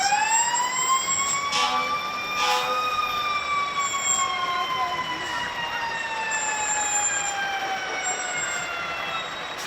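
A Newark Fire Department hazmat truck siren wails steadily at a St. Patrick's Day parade, a loud rising and falling tone sustained throughout with faint crowd noise beneath.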